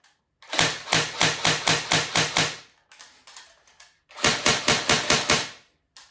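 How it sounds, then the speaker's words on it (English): A Tokyo Marui G3SG1 airsoft gun fires semi-automatic: two runs of sharp, evenly spaced close shots, about eight in the first run and six in the second, separated by a short pause. "Then I can give you a short sound check. First semi-automatic."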